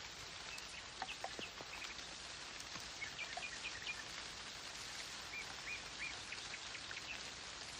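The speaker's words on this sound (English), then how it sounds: "Nightingales." Nightingales singing in short, faint chirping phrases amid a steady hiss of light rain in a cherry orchard, the birds distant and intermittent with no voices.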